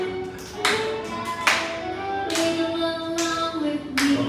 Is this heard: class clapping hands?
yes